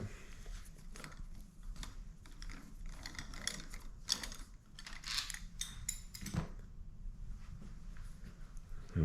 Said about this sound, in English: So let's take the pivot bolt out.